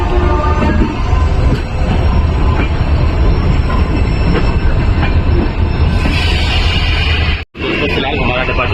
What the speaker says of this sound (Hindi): फिलहाल हमारा डिपार्चर हो रहा है मुरादाबाद जंक्शन से